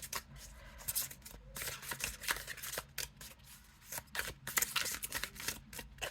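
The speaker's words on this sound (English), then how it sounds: "But it does shuffle this way nice." Stiff plastic oracle cards shuffled by hand in repeated quick bursts, a crisp flapping clatter with short pauses between passes, close and fairly quiet.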